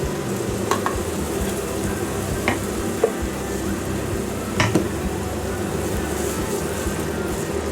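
Tomato, ginger and green chili paste fries in butter and oil, a dense, continuous sizzle up close with occasional soft stirring scrapes and taps of a spoon against the pan.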